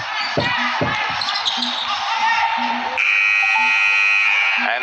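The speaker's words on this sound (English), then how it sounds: "And there's the final buzzer." Arena buzzer sounding at the end of a quarter in a Seprod Elite League netball third-place playoff, Jamaica Hummingbirds vs Racers, a steady loud electronic drone over crowd noise and thumping bounces.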